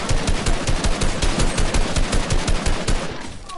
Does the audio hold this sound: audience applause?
no